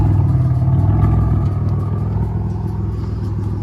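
A Pontiac with its catalytic converters removed but resonators kept, its engine rumbling loud and close at a steady throaty idle with light revving throughout and nobody talking.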